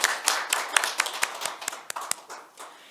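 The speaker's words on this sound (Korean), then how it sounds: "예, 모두 박수 좀 부탁드리겠습니다." Audience applause at a metaverse industry legislation forum, welcoming lawmaker Kim Byung-wook; scattered, fairly sparse hand claps of moderate loudness from a modest room crowd, fading toward the end.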